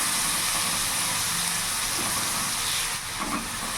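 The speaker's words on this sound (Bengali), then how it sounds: "মিডিয়ামে আছেই আমি মশলাটা ভালো করে কষে নেব। এখন পেঁয়াজটা ততক্ষণ ভাজবো" Onion frying with turmeric, Kashmiri chili powder and cumin powder in a pan over a medium gas flame while cooking potoler kalia, giving a steady broadband sizzle and hiss throughout, with a few soft stirring knocks.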